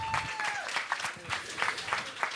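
Studio audience applause on a comedy show, fairly faint scattered clapping with distinct individual claps and a voice over the start.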